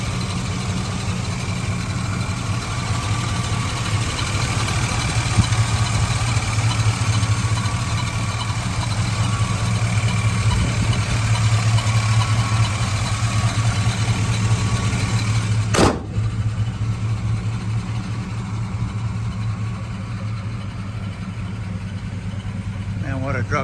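A 1987 Chevrolet Silverado pickup's 350 V8 with throttle-body fuel injection idles steadily, a low, even rumble with a faint mechanical whine on top, holding the same pitch throughout.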